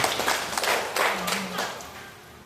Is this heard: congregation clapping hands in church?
yes